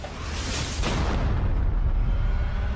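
A ship's cannon fires chained cannonballs at sea, a heavy broadband boom that swells into a sustained rumbling roar lasting several seconds.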